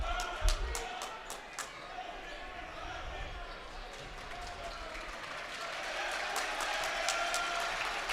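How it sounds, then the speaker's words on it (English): Players on the Appleton East bench clap in quick bursts during a high school varsity basketball game, faint under crowd murmur, ball bounces and a commentator's voice. "East bench clapping right now, imploring its defense"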